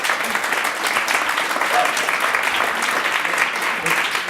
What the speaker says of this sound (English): Give a round of applause for Mike.